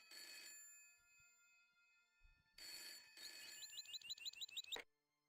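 A telephone rings in the Broken Sword: Shadows of the Templars Director's Cut game, sounding as bright electronic trill bursts with a pause between them and a final quick, warbling ring that cuts off abruptly.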